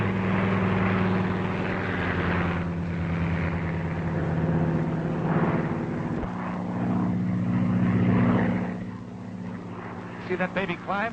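A propeller airplane in flight, a steady loud droning engine hum with shifting pitch throughout, close and continuous, with a brief change in tone near the end.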